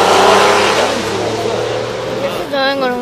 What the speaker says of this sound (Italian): ma sento una macchina. Eccola che arriva.